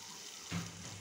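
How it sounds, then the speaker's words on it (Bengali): Water poured into a cooking pot of fish curry with jackfruit seeds, a brief soft splash of about half a second, quiet and alone. "এখন আবার দিয়ে দিচ্ছি একটু পানি"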